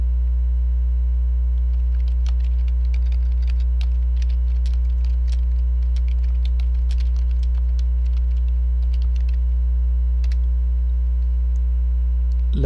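Typing on a computer keyboard while working in a Linux terminal and notes app: quick, light key clicks in irregular bursts over a steady low electrical hum, close and fairly faint.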